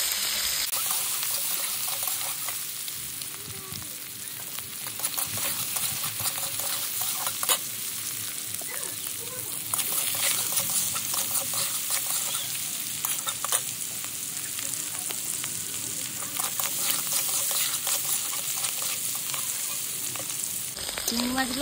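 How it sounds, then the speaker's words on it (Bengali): Prawns fry in oil with a little turmeric, making a continuous loud sizzle with frequent crackles and stirring noises that run without a break. "ওই তেলেই দিয়ে দেবো চিংড়ি মাছগুলো, অল্প একটু হলুদ দিয়ে দেবো।"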